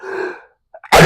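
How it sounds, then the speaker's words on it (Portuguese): A single sharp sneeze, preceded by a short inhaled buildup and a brief pause, loud and close. "Eu tô com esse espirro desde o começo da nossa conversa."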